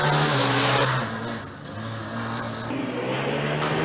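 Formula Student race cars on an endurance track at the FSG 2018 event, heard as a loud, droning engine note that shifts pitch as the car passes close and then recedes, with no voices.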